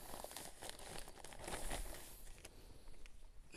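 Plastic bag crinkling as it is slipped over a freshly wrapped walnut graft during variety top-working in an orchard near Haymana, a steady close rustle and crackle lasting a few seconds with no talk.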